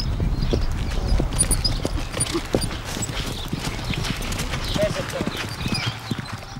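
Horses' hooves clip-clop steadily during an early-morning final workout before Melbourne's Cup Day race, a continuous busy patter of many hoofbeats with a faint whinny amid the bustle.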